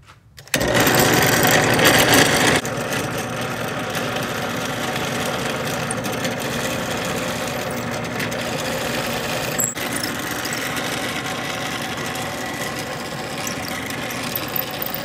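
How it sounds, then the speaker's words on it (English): A drill runs continuously while boring neck pocket holes in a wooden guitar body during a custom build, giving a steady loud whir that starts abruptly and eases slightly in pitch after the first couple of seconds. "Drilling neck pocket holes."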